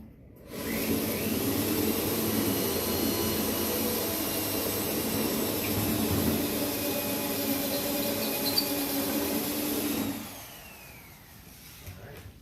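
A power drill bores out spot welds on a steel car door panel, a steady high-pitched whine and grind held for about ten seconds before it stops, heard close and loud with no talking.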